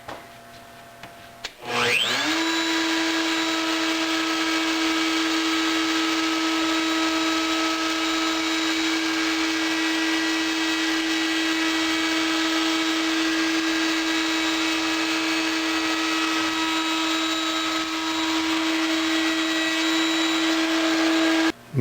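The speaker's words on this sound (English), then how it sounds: "And now we're going to cut that cove on the back side that we were talking about." A router cuts a cove into the back of a wooden Dentil picture frame: after a brief start, a loud, steady high-pitched whine holds almost unbroken for about twenty seconds.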